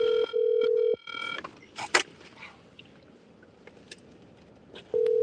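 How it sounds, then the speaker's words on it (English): Phone dialing a call, with a steady tone at the start and again at the end, and quiet faint clicks and rustling between. "Let me call Bill Haney."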